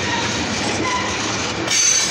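A freight train rolls past close by with a loud, continuous rumble and rattle of railcars, and a brief metallic wheel squeal rises near the end.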